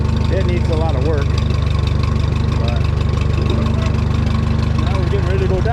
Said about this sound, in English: I don't know if you can hear the tractor speeding up